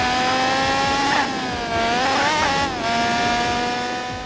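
A 1994 Opel Calibra DTM touring car racing in Gran Turismo 4, its engine holding a loud, high-pitched scream that dips briefly between gears before climbing again, alone without talk.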